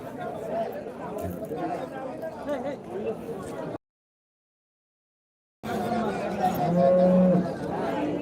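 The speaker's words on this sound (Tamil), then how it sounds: "ஜெர்சி மாடுங்க தாங்க ஜாஸ்தியாக நிற்குது" Jersey cattle lowing at a busy livestock market in Vaniyambadi, moos rising over crowd chatter and talking, with a brief silent gap before a louder, nearer moo.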